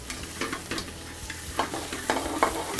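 Monkfish pieces and garlic fry in a pan with a steady low sizzle, broken by irregular scraping and shaking knocks as the pan is moved, close and moderately loud, with no voices.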